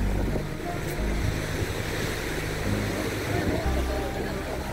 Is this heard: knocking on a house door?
no